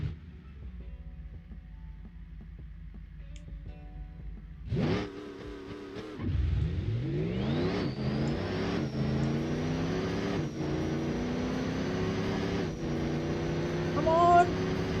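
A diesel-powered car with no nitrous launches in the video game Automation, its engine climbing in pitch through steady gear pulls after a brief burst and gap, moderately loud and close, with no talking.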